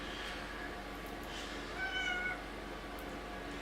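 A cat meows a few times at moderate volume over a steady background hum, with no one speaking.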